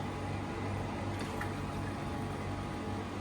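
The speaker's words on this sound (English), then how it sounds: "So this now is going to sit and simmer" Chicken stock simmering in a pot gives a steady, low, continuous bubbling hiss, quiet and unbroken throughout with no voices.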